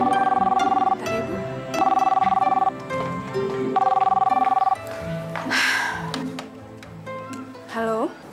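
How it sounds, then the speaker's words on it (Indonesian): A telephone rings indoors in three repeated electronic trills, each about a second long with pauses between, then stops as a voice and other speech follow. "Bu, ada telepon."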